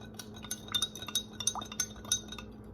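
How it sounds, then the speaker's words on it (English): A spoon clinks repeatedly against a glass beaker holding salt and oil, a rapid, irregular series of light bright taps and scrapes, close and clear with no talking. "I'm going to take my handy dandy spoon"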